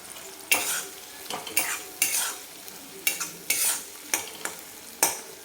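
Shahi paneer masala being stirred in a pan, a spoon scraping and clinking in an uneven rhythm over a soft sizzle.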